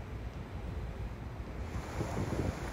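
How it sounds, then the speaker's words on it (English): Ocean waves roll and crash onto the seafront on Isabela Island in the Galapagos, a steady loud wash of surf mixed with wind rumble that swells toward the end. "Then we got back to the seafront, and as you can see, epic waves."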